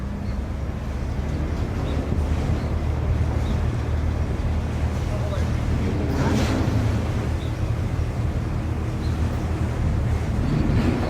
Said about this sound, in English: there we have the ferry docking